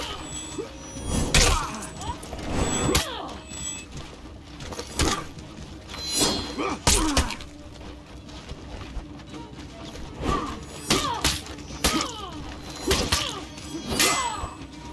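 Sword clashes and heavy thuds from a Centurion parrying a Peacekeeper zone attack in the melee fighting game For Honor, a string of sharp metallic hits and impacts scattered over a busy combat soundscape.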